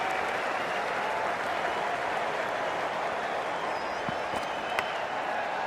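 A large cricket crowd in the Cricket 24 video game applauds in a steady, dense wash of clapping that stays constant throughout, with faint talk mixed in.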